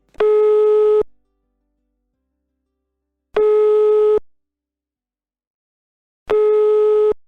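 Telephone line tone heard while a call rings through to a cellphone: three identical steady electronic beeps, each about a second long, separated by long silent gaps, loud and clear with no talk.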